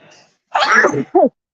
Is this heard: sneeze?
yes